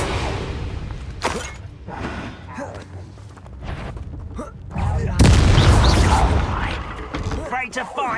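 Explosive blasts from the Confringo fire spell in Hogwarts Legacy boom loudly amid game combat effects, with a big burst near the end, while a voice calls out spells over the action.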